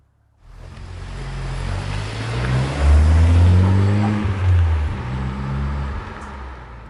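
A Honda Civic Type R pulls away on the road, its engine rising from a low rumble into a strong, steady drone that swells and eases as the car accelerates, heard from inside the cabin.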